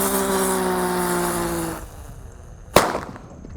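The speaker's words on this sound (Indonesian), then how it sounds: "di sini ada mercon Teratai" A Teratai firecracker burns with a steady hissing and whistling for nearly two seconds, then goes quiet before a single sharp bang rings out, followed by a short fading tail.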